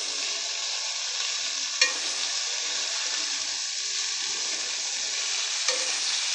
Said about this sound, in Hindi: तो इसको तेल में ही बनाएंगे।